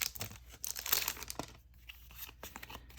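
A Lost Abyss trading card booster pack being cut open and its foil wrapper crinkled, short close rustling and tearing bursts, fairly faint, with no talk.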